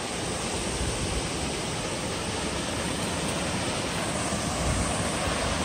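Water cascading down a waterfall among big boulders in a park, a steady broadband rush that holds evenly loud and close throughout with no voices.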